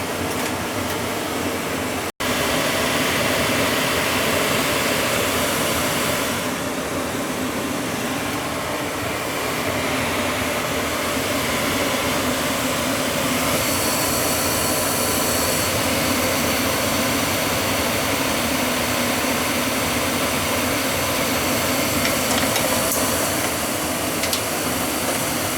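A gas furnace in a water-damaged house roars with a steady broadband rush after its burner lights, following a brief click near the start, and the sound stays loud and continuous throughout.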